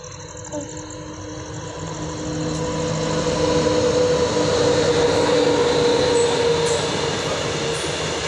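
A railway train passes close by, a loud steady rumble of wheels on track swelling after the first couple of seconds and holding with a faint metallic whine and clatter, no talk over it.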